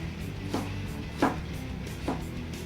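Knife strokes on a cutting board while slicing diced tomato for quesadilla salsa: three separate close chops about 0.7 seconds apart over a steady low background hum, no talking.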